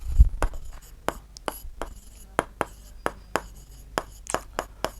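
A pen writes numbers on a board or paper, giving a steady run of short, crisp strokes and taps about every third of a second, close and clear, with nobody speaking.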